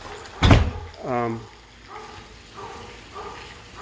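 A house door swings open onto the backyard with a single sharp knock of the latch, followed by an excited poodle's whine and quieter rustling, while someone speaks nearby.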